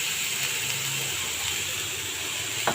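Potatoes sizzle in a hot pan for Bengali aloo bhaji, a steady close hiss with a brief metallic clink of stirring near the end.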